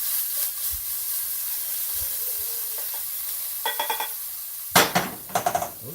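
Onions sizzling and hissing in a pan while being stirred, a steady frying hiss with scraping and a few sharp clinks of a utensil against the pan near the end, all close and fairly loud.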